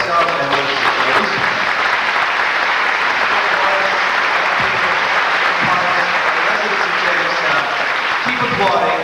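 Audience applause at a 1991 stage event celebrating Lucy, loud dense clapping that continues evenly for several seconds, with faint crowd murmur mixed in.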